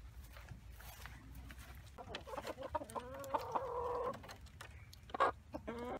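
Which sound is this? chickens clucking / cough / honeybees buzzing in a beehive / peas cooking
chickens clucking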